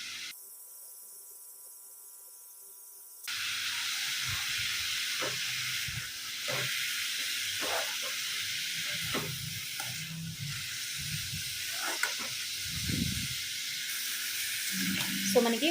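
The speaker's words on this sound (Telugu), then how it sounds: "జస్ట్ లైట్గా 1 మినిట్ వరకు ఫ్రై చేద్దాం" Sliced yellow cucumber fries in a pan in a home kitchen, a steady soft sizzle and hiss with occasional stirring knocks and scrapes. It begins after a few seconds of near silence.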